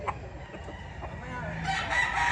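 A fighting rooster crows in a fowl pen, a clear cock-a-doodle-doo call at close range with clucking fowl and faint voices around it.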